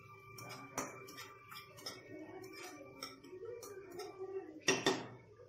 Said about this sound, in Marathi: आता पुन्हा आपण हे छान मिक्स करून घ्यायचं आहे.